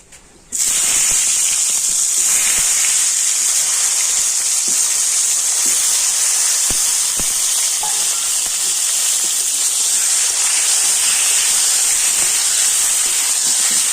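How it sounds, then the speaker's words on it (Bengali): Pointed gourd pieces coated in salt and turmeric frying in hot oil, a loud, steady sizzle and hiss that starts abruptly as they go into the pan and holds without pause. "তেল গরম হয়ে গিয়েছে আর এখন আমি লবণ হলুদ মাখিয়ে রাখা পটলগুলো তেলের মধ্যে দিয়ে দেব"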